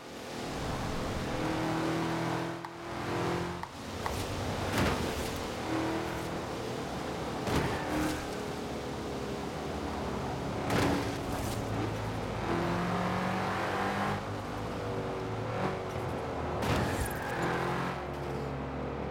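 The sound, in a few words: cars driving and bumping in Forza Horizon 4 video game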